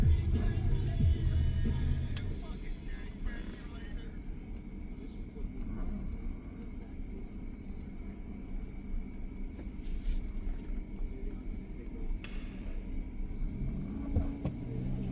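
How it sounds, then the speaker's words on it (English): Crickets chirr as a steady, faint high trill on a quiet evening in Marietta, Ohio, under a low, constant outdoor rumble. "you hear the crickets too, man. It's a nice, quiet evening."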